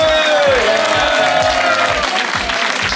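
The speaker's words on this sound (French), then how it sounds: "Voilà, on applaudit" An audience claps loudly and continuously while a sustained tone and regular low thumps play along underneath.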